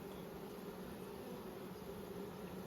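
Honeybees swarm and hum steadily at an open hive frame crowded with nurse bees, a dense continuous buzz filling the air without pause, fairly close and even throughout.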